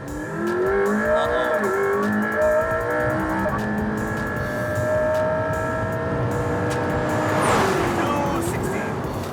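A Mercedes race car with a 3.8-litre twin-turbo V8 of about 727 bhp roars steadily on a track, its engine note climbing as it accelerates, with a brief tire squeal near the end and voices talking over it.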